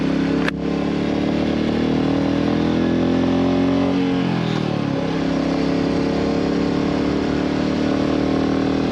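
Motorcycle cruising a scenic hill road toward Kasauli, a steady loud engine drone with wind rush and a brief shift in pitch midway.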